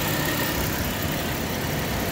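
A 2010 Chrysler Town & Country's 3.8 liter engine runs steadily at idle while it overheats with a suspected failing water pump, giving a constant, even mechanical hum and hiss throughout, with no voices.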